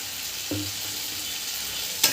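Masala with cashew paste and a little mustard oil frying in a pan gives a loud, continuous close sizzle. A brief stir sounds around the middle and a sharper scrape comes near the end.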